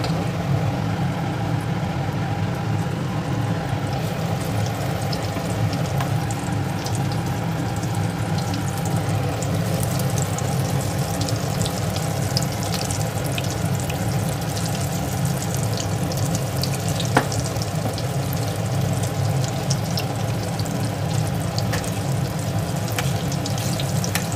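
A batch of vada pav fritters deep-frying in hot oil, a loud continuous bubbling sizzle that holds steady throughout with only faint clinks, and no voices.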